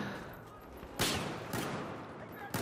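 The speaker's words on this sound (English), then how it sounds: "I'm using my pistol." Pistol shots in the video game Battlefield: three sharp, loud reports at uneven intervals, standing out over steady background game noise.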